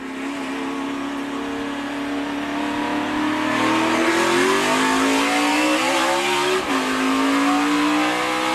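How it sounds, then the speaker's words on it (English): Race car engine revving hard at a restart in a 2015 Nationwide Series race at the Nationwide Children's Hospital 200, a loud steady roar that climbs in pitch through upshifts, with other cars droning alongside and no voices. "Have a listen to Tagliani at the restart."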